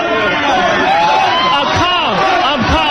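Loud, dense crowd din at a Las Vegas basketball challenge event, with overlapping chatter, shouts and whoops filling the whole stretch and drowning out a speaker.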